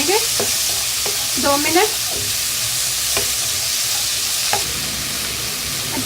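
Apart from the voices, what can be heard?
peas being fried in a pan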